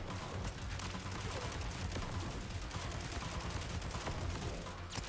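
Dense, continuous gunfire from the video game Borderlands fills the whole stretch, with rapid overlapping shots and bursts at steady loudness and no pauses.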